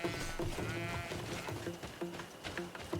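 Goats in the video game Greedfall bleat repeatedly, several overlapping wavering cries forming a loud, dense herd chorus close by with no talk.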